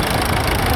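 A vintage Rover Ploughmaster tractor on parade at the Sussex Steam Rally, Parham Park, with its engine running loud and steady, a dense continuous rumble close by.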